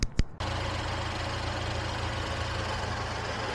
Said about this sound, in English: Car seems to be idling fine.